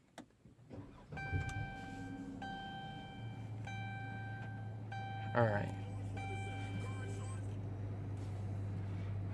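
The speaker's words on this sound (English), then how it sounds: "you push this button to start it up" A Chrysler 300 luxury sedan fires up by push button with a quick starter crank, then settles into a steady low idle hum. A person speaks briefly over it.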